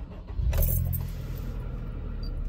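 A Honda Civic engine cranks and catches after its multiplex control unit is replaced, then settles into a steady, close idle.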